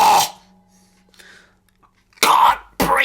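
Three loud, harsh coughs, one at the start and two close together near the end, separated by near silence and a faint wheezy breath.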